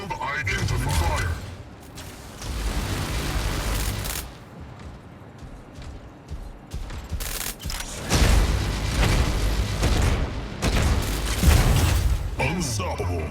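Shotgun fire in a video game booms in heavy bursts between mechanical reload clicks and clatter, with in-game announcer voices talking over the action.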